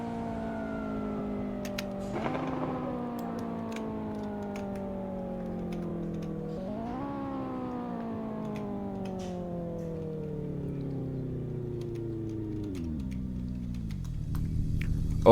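A tuned Honda S2000 engine holds a steady, loud, close drone near its top speed, then downshifts three times. Each shift brings a sharp jump in revs that slowly sags back, and a final rev flare comes at the end.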